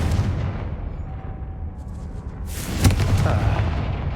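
A Confringo spell explosion in Hogwarts Legacy arrives after a low rumbling lead-in: a sudden sharp burst midway, followed by a lingering boomy tail.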